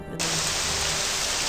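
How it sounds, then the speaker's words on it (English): Steady hiss of heavy rain in the video game Morrowind, starting abruptly and holding at an even, loud level with a brief word spoken just before it. "rain. Hate that noise."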